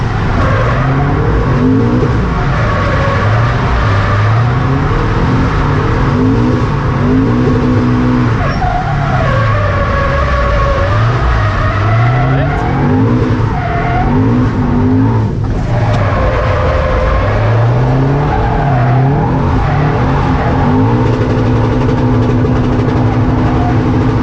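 A Toyota GT86 drifts at Teesside, held in second gear, its engine revving hard and steadily while the tires squeal and skid. The sound is loud and continuous, close to the car, with no talking.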